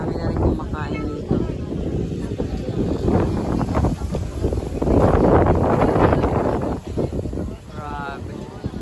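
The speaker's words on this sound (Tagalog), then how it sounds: "Sobrang hangin dito, grabe." Strong wind gusts buffet the microphone at a hilltop outdoor food area at night, a loud, constant rushing roar under ongoing conversation.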